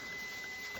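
A vacuum cleaner picks up debris from sheetrock being pulled out of a wall at home, running as a steady, unbroken broadband whoosh throughout.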